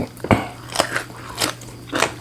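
Four loud, crisp crunching bites come one after another at a steady pace, close up, over a low background hum.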